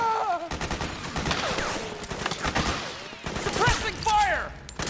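Gunfire in the video game Metal Gear Solid 4: Guns of the Patriots, a sustained fusillade of close, sharp shots running the whole time, with voices shouting over the battle.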